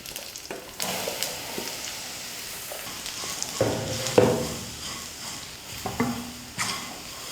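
Ragi flour roasts in a pan for upma with curry leaves and roasted dal, a dry scraping stir and faint sizzle repeating in uneven strokes, close and fairly quiet, with no voices.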